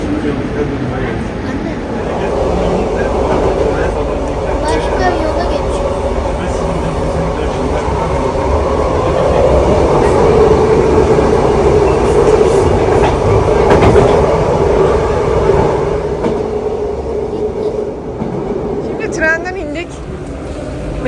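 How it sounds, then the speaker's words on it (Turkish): A double-decker train in Paris rumbles steadily along the rails, with a low continuous roar and faint clatter heard from inside the carriage. "İki katlı tren."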